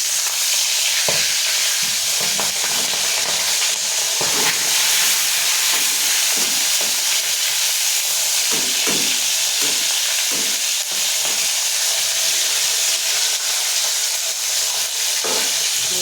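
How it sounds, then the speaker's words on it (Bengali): Fish heads frying in hot oil give a loud, continuous crackling sizzle up close, with scattered utensil scrapes and knocks as they are stirred. "এই যে মাছের মাথাগুলো ভেজে নিচ্ছি।"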